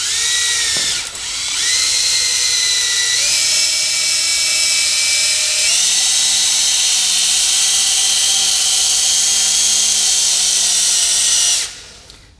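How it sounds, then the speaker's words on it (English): A power polisher with a pad works a Mini Cooper headlight using a 3M restoration kit, a loud close high whine that starts abruptly, steps up in pitch a few times, holds steady, then cuts off near the end. "I will put just a little bit on that pad, and I will start polishing that headlight."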